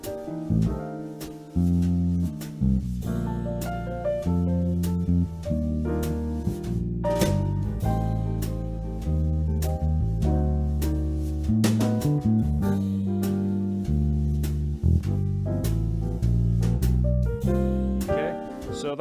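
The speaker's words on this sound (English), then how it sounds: "the backing track is going to sound like this" A jazz backing track plays steadily, with walking bass, chords and drums in a continuous full-band groove at moderate volume, no voices over it.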